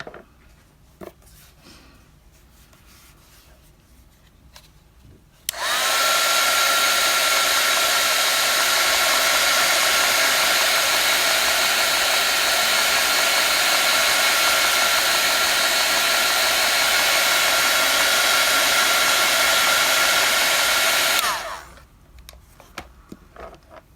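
A heat gun or hair dryer warms the sculpting clay of a sculpted face, giving a loud, steady whooshing whir that starts abruptly, runs unbroken for about sixteen seconds, then cuts off into quiet.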